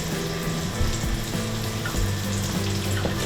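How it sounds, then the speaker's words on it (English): Sliced bananas sautéing flat in butter in a pan, a steady close sizzle and crackle running throughout with faint clinks of a utensil. "So let's make sure those bananas are flat and in the butter,"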